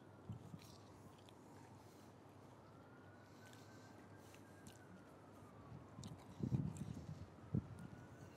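Someone bites into a crunchy cheese toasty in a garage café in Newcastle, and a few close, sharp crunches and chewing sounds break out near the end over quiet room tone.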